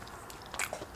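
Crunchy vegan pancakes bitten into at a brunch meal, a single crisp crunch near the middle followed by brief chewing, close and moderately quiet with no talk.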